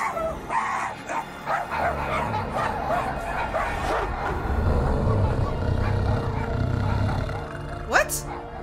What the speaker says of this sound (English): why are we woofing?